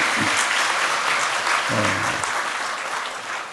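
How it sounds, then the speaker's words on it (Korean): An audience at a Buddhist gathering applauds, a dense continuous wash of clapping from many hands that holds steady and tapers slightly at the end, with a faint voice underneath. "그래서 박수 한번 더 칩시다."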